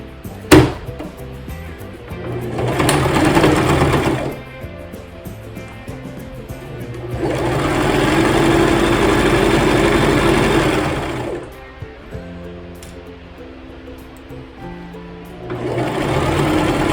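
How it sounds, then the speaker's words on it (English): A sewing machine runs a regular straight stitch along pinned pieces of a dress. It whirs steadily in three separate runs, each lasting a few seconds, with quiet gaps and a single sharp knock near the start. "I'm going to just sew them with a regular stitch right here"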